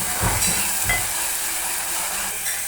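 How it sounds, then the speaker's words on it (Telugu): Masala paste frying and being stirred in hot oil for a karjam kudikaya curry, a steady close sizzle with a few soft scraping strokes near the start, no voices. "ఇలా దీనిలో పచ్చి వాసన పోయేంత వరకు వేపుకోవాలి, తిప్పుకోవాలి, లేకపోతే అడిగంటేస్తుంది"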